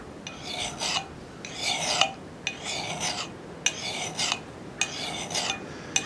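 A file rasps along the cheek of an axe head as it is sharpened with a hardware store grind, about five or six steady, close strokes in an even rhythm with short pauses between them.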